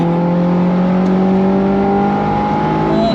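A Honda S2000 engine revs hard and climbs steadily into its VTEC range, a loud, close, rising mechanical whine held for a few seconds with no talking.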